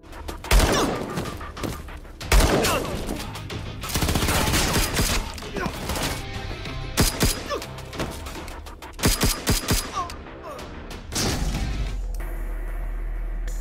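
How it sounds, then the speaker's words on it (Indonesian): Bursts of gunfire erupt repeatedly, loud volleys and single sharp shots separated by brief pauses, with crashes and thuds mixed in. "Karena terus mendengar suara tembakan"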